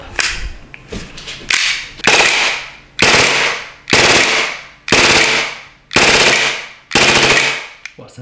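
A BLE ICP Noir ICS gas airsoft gun fires full-auto bursts, about eight sharp rapid rattling strings spaced roughly a second apart, loud and close with a gassy hiss.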